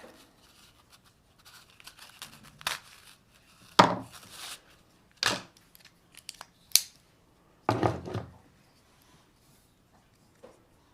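Scissors snip through a piece of heat shrink tubing during the rewiring of a 1932 Emerson 12-inch desk fan, giving a handful of sharp, separate cuts spaced a second or so apart, close and fairly quiet with near silence between.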